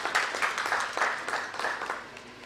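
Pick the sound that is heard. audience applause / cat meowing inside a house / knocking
audience applause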